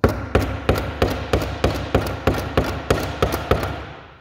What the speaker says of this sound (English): We'll actually hit it on something till it goes further in.